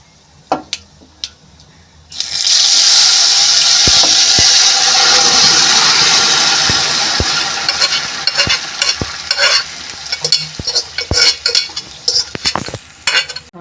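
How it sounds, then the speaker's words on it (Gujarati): Mustard seeds and ajwain hit hot oil for an undhiyu tempering with a sudden loud sizzle that hisses steadily for several seconds, then softens into crackling pops and spoon taps against the pan. "અજમો નાખીને તરત જ આપણે આ ઊંધિયાનો વઘાર કરી દઈશું"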